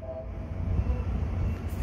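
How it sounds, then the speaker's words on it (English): At Jack London Square a train rolls past, a short, steady, heavy rumble of wheels and cars, close and continuous throughout. "Now there are trains galore."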